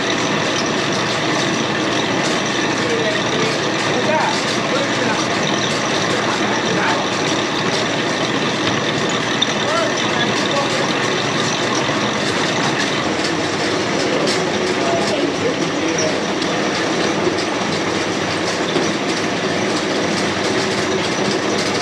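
A vegetable washer machine runs on a working vegetable farm, rinsing dust and dirt off produce, with a steady, loud mechanical rumble and rattling clatter that holds unbroken throughout and no voices.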